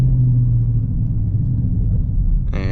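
A 2019 Dodge Charger R/T with the 5.7 engine pulls hard in second gear, a loud, deep rumbling drone heard from the cabin, rising slightly before a brief higher whine at the end.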